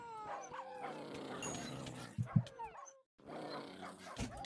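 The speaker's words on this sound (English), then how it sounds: "I can't smack the small dogs" Small dog mobs (pups) in the Hypixel Skyblock video game give short yips and barks amid busy game effects, with a brief louder burst midway and a gap of near silence before the game noise resumes.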